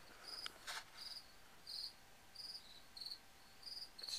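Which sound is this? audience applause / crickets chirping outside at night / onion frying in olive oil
crickets chirping outside at night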